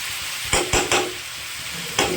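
Mixed vegetables for pumpkin ghonto stirred in a hot pan, a steady soft sizzle broken by several sharp spatula scrapes and clacks, close and alone.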